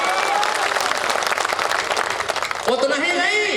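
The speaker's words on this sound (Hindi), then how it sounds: "बहुत कमजोर तालियां।" An audience at a mushaira and kavi sammelan, an Urdu and Hindi poetry gathering in Saharsa, gives a thin burst of clapping that carries on for a few seconds, with a voice rising near the end.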